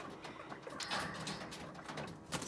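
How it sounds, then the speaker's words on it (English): Quail calling in their pen, soft low coos and chirps repeating at a moderate distance over a light background hiss, with no talk. "Went ahead and moved all the quail in here."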